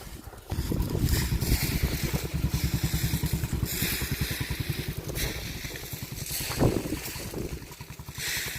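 A tractor engine in a farm field chugs steadily with a rapid, pulsing low rumble that sounds near and continuous, with wind noise buffeting the microphone over it.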